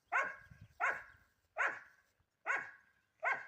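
A farmyard dog barks five times at an even pace, each bark sharp and clear at moderate distance with brief silence between them.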